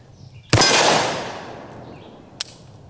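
A single sharp, loud gunshot from a double-barrel 1911 pistol cracks out and rings off, followed about two seconds later by a faint click.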